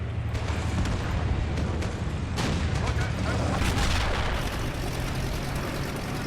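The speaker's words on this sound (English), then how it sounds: "British AT gun should have a nice side shot on that vehicle." A British anti-tank gun fires in the Men of War: Assault Squad 2 battle of Caen, its shots thudding amid a dense wall of continuous gunfire, explosions and battle rumble, loud and steady throughout, with a voice talking over it.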